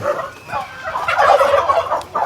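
Turkeys on a farm raising a grey-plumaged breed gobble loudly and continuously at close range, overlapping calls filling the whole stretch without any talking.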